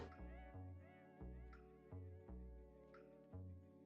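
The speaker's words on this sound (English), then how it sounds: "My cat's like, what if I make as much noise as possible right now?" A cat meows over and over at close range, about six loud, drawn-out, tonal calls in a steady rhythm, each rising then falling, with no talking.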